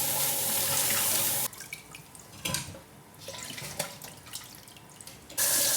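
Tap water runs into a sink while cooking ingredients are washed, steady splashing at first, then quieter clinks, drips and rubbing of the food under the flow, before the full stream returns near the end.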